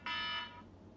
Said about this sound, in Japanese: あなんかアラームなっちゃった